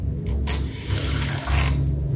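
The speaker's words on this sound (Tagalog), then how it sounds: "Kunting tubig lang ilalagay ko." A small amount of water is poured into a pot of milkfish paksiw with vinegar and salt, a close splashing pour in short bursts over a low steady hum, no talking.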